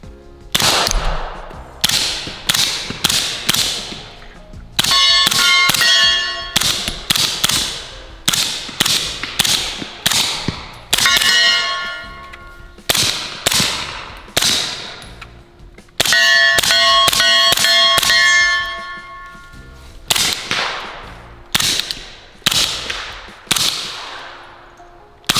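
Suppressed SIG MCX Rattler LT in .300 Blackout firing outdoors, loud sharp reports in rapid strings and quick pairs with brief pauses, each shot trailing a short metallic ring, no talking.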